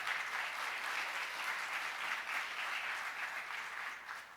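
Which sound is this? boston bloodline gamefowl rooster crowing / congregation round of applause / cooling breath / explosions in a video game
congregation round of applause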